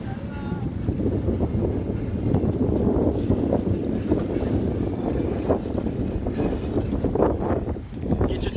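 A trawler travels along a river at sunset, its engine and hull noise forming a loud, continuous rumble mixed with heavy wind buffeting the microphone throughout.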